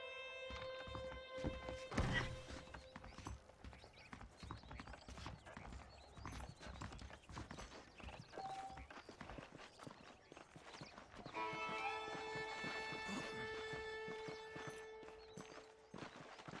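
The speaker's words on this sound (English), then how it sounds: "The horses are saddled up over here." Steady hoof clip-clops of a saddled horse at a walk in the video game Red Dead Redemption, with a brief snort or whinny early on and bright game music tones over the top.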